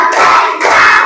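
A classroom of children claps in a chanted counting routine, giving a few loud, close bursts of hand claps separated by short pauses.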